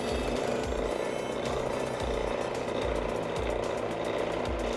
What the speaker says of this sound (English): And then I will start the drill.